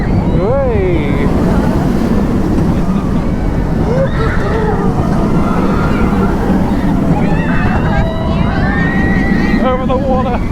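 Mako roller coaster at SeaWorld Orlando heard from on board, a roaring rush of wind and rumbling track noise throughout, with riders shouting and screaming over it.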